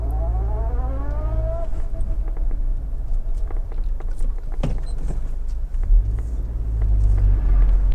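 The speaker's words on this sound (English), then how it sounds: "you put your foot down, you get that lovely kind of induction sound from the Hondas" A Honda Accord 2.0 i-VTEC engine swells with a rising, whining intake note as it accelerates, then settles into a steady low rumble of road noise.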